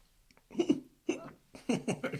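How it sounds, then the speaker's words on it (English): Hiccups from a man in a kitchen during a fish-fry cooking session, three or four short, sharp, close hiccup bursts spaced irregularly over a couple of seconds, with brief voiced squeaks and no clear speech. "Got the hiccups."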